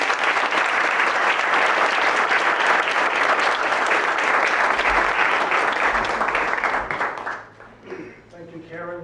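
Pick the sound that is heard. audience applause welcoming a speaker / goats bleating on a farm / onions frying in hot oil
audience applause welcoming a speaker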